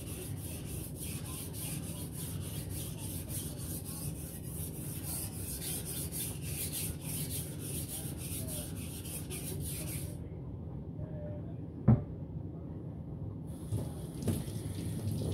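A 52100 steel custom Chinese cleaver is honed on fine sharpening stones with light pressure, giving a steady soft rasping rub that continues evenly, with a small sharp click near the end.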